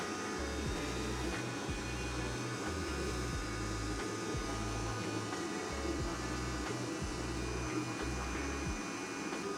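A rusty bolt heated without flame by an induction-style heater gives off a loud pulsing electrical hum in rhythmic on-off bursts, steady over a faint background whine, with no talk.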